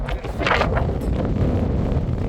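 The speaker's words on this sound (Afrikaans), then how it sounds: "Wind waai." Wind blowing across a sandy beach near a river crossing at Infanta, a steady broadband rush with gusty swells, close and buffeting the microphone, with no voices.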